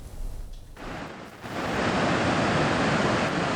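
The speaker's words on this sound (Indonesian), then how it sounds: "banjir lahar dingin kembali mengalir dari puncak Gunung Merapi" Cold lava flood water rushes down from Mount Merapi, a dense, steady roar of churning flow that swells louder after a brief dip and holds constant, with no voices.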